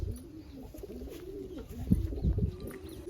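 Two pigeons caught by hand coo softly and close by, in low repeated rolling calls over a steady background hum, with a couple of slightly louder bursts near the end.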